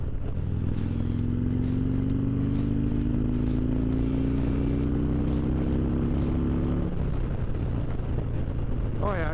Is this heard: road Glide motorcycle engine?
yes